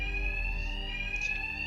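Bank alarms ringing during a robbery in Batman: Arkham Knight, a loud, continuous electronic tone with a steady pitch that holds unbroken throughout.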